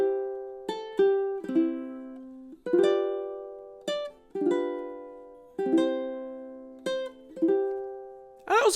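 High G ukulele plucking Silent Night in a low G style arrangement: clear, close picked notes and chords in a slow, gentle waltz rhythm, each note ringing and decaying, played solo with no voices.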